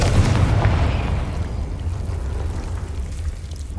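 A Confringo fire spell blasts in Hogwarts Legacy with a heavy low boom at the start, then rumbles and fades into a steady dark drone that lingers, with no talking.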